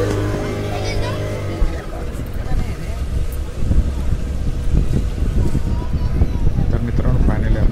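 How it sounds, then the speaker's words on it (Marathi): A boat pulls away from a jetty in Goa, its engine rumble rising beneath strong wind buffeting on the microphone, steady and loud, with a voice speaking over it. "फायनली आपली बोट जेटीपासून सुरू झालेली आहे"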